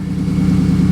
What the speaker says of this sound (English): Sorry about the noise, my roommate's truck over there.